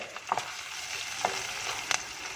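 Green chillies and curry leaves sauté in hot oil for a home-style chicken curry, giving a steady close sizzle with a few light spoon taps and stirs.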